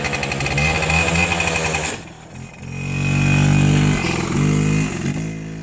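A dirt bike engine roars loud and close, dipping briefly before revving back up into a strong, buzzing drone. No voices are heard.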